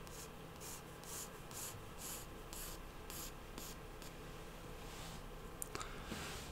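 A pencil scratches faint, close strokes across paper while sketching the outline of a cat, in short rhythmic bursts of rubbing separated by brief pauses, with no voices.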